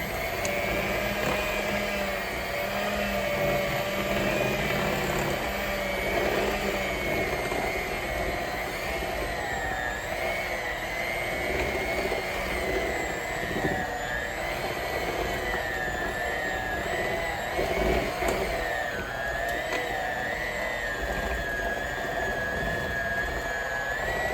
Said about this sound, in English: Now we're gonna put our mixer back in here